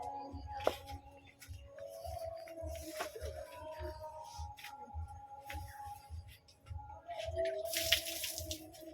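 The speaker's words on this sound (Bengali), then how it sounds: "শুধু তো জলটাই ছড়িয়ে দেবো" Water from a bucket is sprinkled by hand across a floor: soft, intermittent splashes and patters, fairly faint, over a quiet background with faint household noise.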